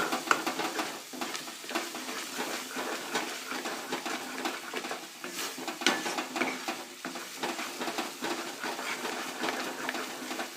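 Radhu-Channa halwa mixture being stirred in a pan, a steady close scraping and gentle sizzling that runs without pause under faint kitchen clatter, with no talk.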